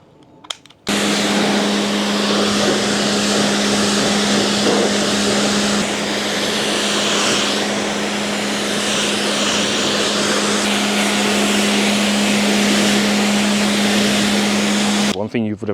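A budget pressure washer runs steadily as it rinses a car, giving a loud, constant motor drone with a steady hum and broad spray hiss that starts suddenly and continues almost unbroken before cutting off at the end.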